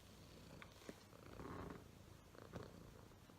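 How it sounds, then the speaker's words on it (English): An elderly cat, 14 or 15 years old, purrs softly and closely, a low rumbling vibration with faint rustles; quiet overall. "Can you hear him purring?"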